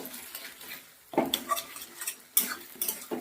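A spoon stirs mashed cauliflower with turmeric and salt in a pan over a medium gas flame. The scraping and clinking come close and irregular, in a few sharper bursts over a soft background hiss.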